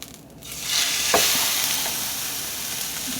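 An egg frying in a pan, the sizzle swelling quickly after a quieter start into a loud, steady crackling hiss that carries on to the end.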